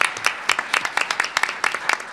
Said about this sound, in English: A round of applause for Congressman Lee Terry.